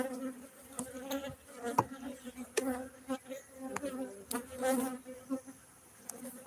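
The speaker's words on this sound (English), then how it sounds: "they got a bunch of bees in here." Bees buzz close by in an open beehive, a dense, wavering drone with individual bees swelling louder and fading as they fly past, with a few soft knocks mixed in.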